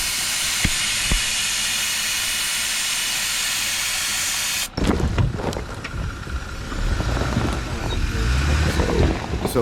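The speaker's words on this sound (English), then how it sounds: "let's air down these tires." Air hissing steadily out of a Jeep tire valve while airing down on a muddy Big Bend trail; a loud continuous hiss runs for several seconds, then stops and gives way to rougher outdoor handling noise.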